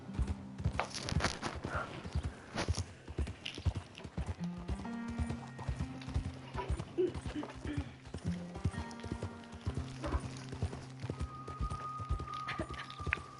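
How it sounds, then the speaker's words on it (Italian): Hooves clip-clop in a steady walking rhythm from a horse close by, with a musical tone running underneath and voices talking over parts of it. "se senti che è avanti il cavallo"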